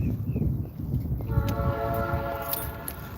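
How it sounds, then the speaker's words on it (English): Train horns blow nearby as a sustained harmonic blast that starts partway through and holds steady over constant low street rumble and traffic noise. "you guys can hear the horns from the trains"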